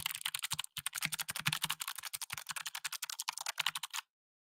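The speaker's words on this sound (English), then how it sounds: "Then they have the clicky, which has quite a pronounced click when you press it down." Rapid typing on a Logitech MX Mechanical keyboard with clicky switches, crisp close key clicks in a fast uneven stream for about four seconds before stopping abruptly.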